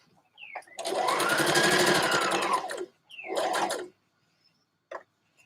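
A sewing machine stitches a dress in two close bursts of rapid whirring, a long run of about two seconds and then a shorter one, followed by a brief faint click.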